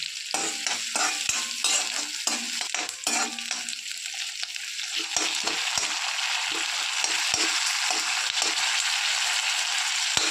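Curry leaves, onion, ginger, green chili and cloves hit hot oil in a pan for tomato soup, giving a loud, steady sizzle with frequent stirring clacks, busier at first and then settling into a constant hiss.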